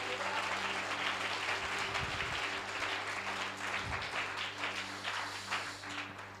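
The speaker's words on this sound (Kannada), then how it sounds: "ಚಪ್ಪಾಳೆ ಹೊಡೆಯೋದಾದ್ರೆ ಜೋರಾಗಿ ಹೊಡೀರಿ" A church congregation claps during a sermon, a dense, steady wash of many hands that stays loud and even throughout, with a faint low hum underneath.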